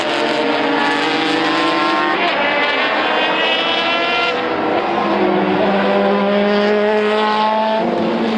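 GT race cars fight side by side at high speed, loud engines wailing and shifting pitch continuously as they sweep past, close and sustained with no break.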